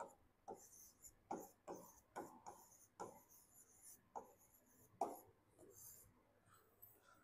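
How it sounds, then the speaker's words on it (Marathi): A Marathi word is written out by hand in a run of short, faint scratchy strokes with brief pauses between them, close and quiet, with no one speaking. "आता मी एक मराठी शब्द लिहितो"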